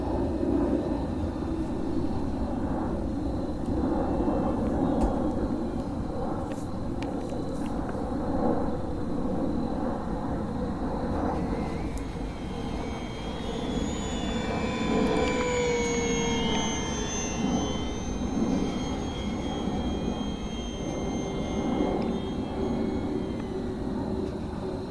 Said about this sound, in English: It is the best knife edge that I did with the airplane the whole day.